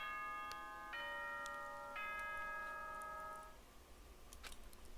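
In Danganronpa, the school announcement chime rings as a few clear bell-like tones, stepping in sequence with long ringing tails, then fading under faint background noise.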